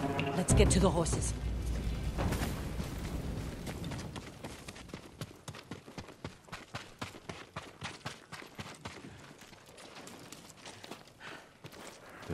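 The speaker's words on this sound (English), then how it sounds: "Samurai horses." Samurai horses' hooves in Ghost of Tsushima, a steady run of clip-clopping hoofbeats near and fairly loud after a heavy opening rumble, continuing rhythmically throughout.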